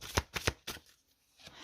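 Tarot oracle cards are shuffled and drawn in a few quick, close riffling bursts separated by short pauses, soft and dry with no talk.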